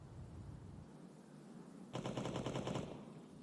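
A short burst of rapid gunfire in Counter-Strike, around a second of quick evenly spaced shots rising above a low background hum, fairly faint overall and then stopping.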